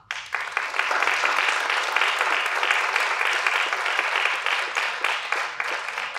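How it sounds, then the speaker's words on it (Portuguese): An audience applauds steadily as three guests arrive on stage at a live talk event, the dense clapping rising quickly and staying loud and even throughout with no pause. "A plateia recebe Chay, Timóteo e Cris com palmas"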